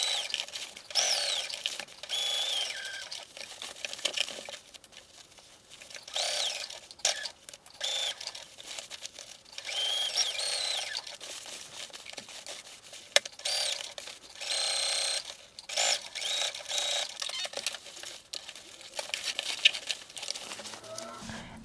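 A sewing machine stitches pockets onto assembled pants in repeated short runs with brief pauses, a bright mechanical whir that rises and falls at moderate loudness.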